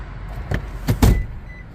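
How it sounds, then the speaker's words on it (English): The power-folding rear seats of a 200-series Lexus LX570 make three short motor whirs and thumps in quick succession, close and fairly loud, with light background hiss between them. "Wanted to refold these seats down real quick."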